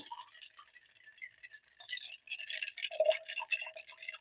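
Spoon stirring iced Aeropress coffee, light quick clinks and taps against ice and glass, faint and close, in irregular bursts with short pauses.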